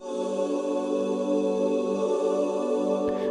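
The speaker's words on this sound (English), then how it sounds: "which is the Labs Micah's Choir" Labs Micah's Choir sample sustains a dense, steady choral pad, a loud unbroken wash of layered voices holding for a few seconds without pause or speech.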